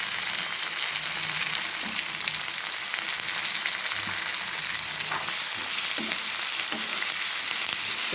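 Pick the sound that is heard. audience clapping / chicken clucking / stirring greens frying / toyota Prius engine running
stirring greens frying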